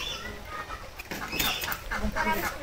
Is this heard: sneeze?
no